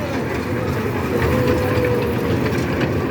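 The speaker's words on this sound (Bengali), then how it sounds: "রেলগাড়ি খেলনা" A toy train runs at Chattogram sea beach, giving a steady rattling rumble with a faint whining tone, set against a busy outdoor crowd hum.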